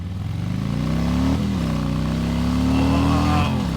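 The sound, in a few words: Harley-Davidson M8 Softail with Rinehart 2-into-1 exhaust riding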